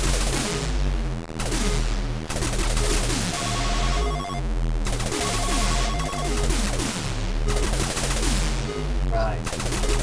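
Tron arcade game plays loudly, a dense mix of rapid synthesized tank-shooting blasts, buzzing tones and beeping electronic effects that continue throughout.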